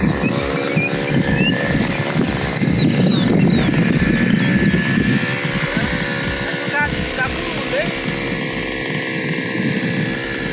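A tractor ploughs a farm field in Zambia being prepared for vegetable planting, its engine a loud, steady drone that runs through the whole stretch. Faint chirps sound in the background and a person talks over the engine.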